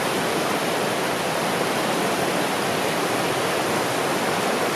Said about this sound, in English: Here's the rapids at Tanner Beach.